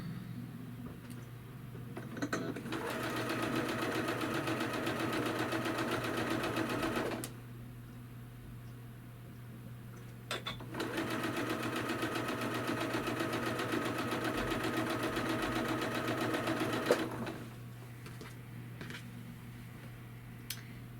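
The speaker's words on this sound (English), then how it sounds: "Chain piecing is where we sew one right after the other." A sewing machine chain piecing quilt blocks runs in two long steady bursts of rapid stitching, with short pauses between them where the fabric is repositioned, close and fairly loud over a low constant hum.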